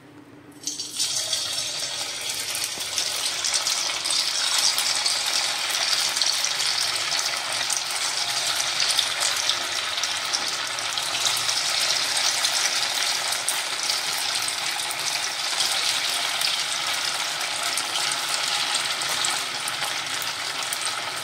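Small sabudana and potato fasting fritters (bhaji) dropped into hot oil and frying, a loud steady bubbling sizzle that starts abruptly and holds evenly close up for about twenty seconds with no talk.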